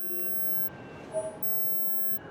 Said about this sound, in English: It was a pod beeping.